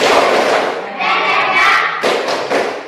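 A classroom of students performs a rhythmic 'tepuk semangat' spirit clap, loud, dense bursts of group clapping with short pauses between phrases, chanting voices mixed in.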